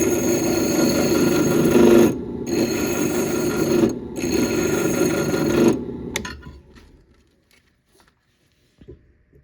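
Steady back-and-forth rasping of a hand file on a billet aluminum bogie wheel part for a 2003 Yamaha Viper snowmobile, loud and close in long continuous strokes with two brief pauses, then stopping and fading to near silence.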